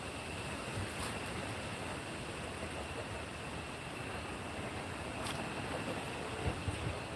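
Strong wind of about 50 miles an hour roars steadily across a farm, rushing through swaying trees in a continuous broadband wash with gusty swells and no talking.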